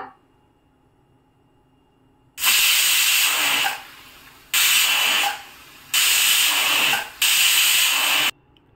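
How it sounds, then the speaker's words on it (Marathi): A pressure cooker on a high flame lets off three loud steam whistles in a row, each a sustained, close hiss lasting over a second, with brief gaps between, after a quiet start. "आता मी 4 ते 5 शिट्ट्या काढून घेईन कुकरच्या"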